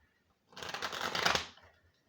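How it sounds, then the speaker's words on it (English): Tarot cards are shuffled in one quick, close riffle that lasts about a second, a soft papery flutter rising out of near silence and fading away. "All right, one more good shuffle"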